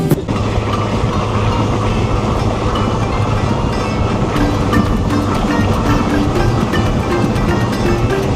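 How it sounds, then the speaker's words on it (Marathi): A moving passenger train on the Salgare to Pandharpur line rumbles loudly and steadily from inside a carriage, a dense continuous roar with faint rhythmic rail clatter throughout. "2 ते 3 मिनिटात ट्रेन चालू झाली ना."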